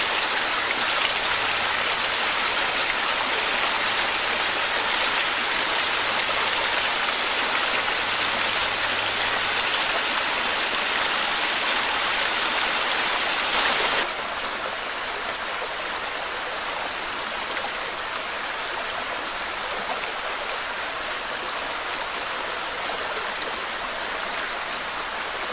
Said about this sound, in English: It is heating up, so it does feel good to walk through a creek